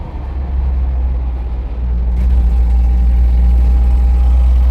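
A car engine drones steadily from inside the cabin while cruising on the road at about 80 km/h, a deep constant rumble that swells slightly louder partway through with a faint whine running above it.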